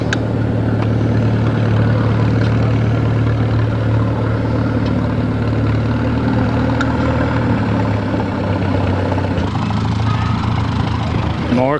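A Cub Cadet garden tractor engine runs at an antique tractor show, giving a steady, loud low idling drone that continues throughout with outdoor background noise.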